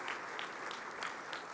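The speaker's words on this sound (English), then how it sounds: "Let's give that a round of applause." Brief, faint applause from a dinner audience at an inaugural dinner, a steady wash of clapping with a few sharper individual claps standing out.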